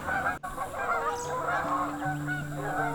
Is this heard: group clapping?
no